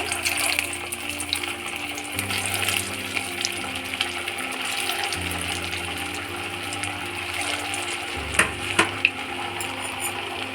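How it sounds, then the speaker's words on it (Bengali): Steady crackling sizzle of vegetable nuggets frying in hot oil, continuous and close, with a few sharp clinks and a brief splash of water near the end. "তেলটা গরম হয়ে গেছে, এবারে একটা একটা করে দিয়ে ভেজে নিচ্ছি"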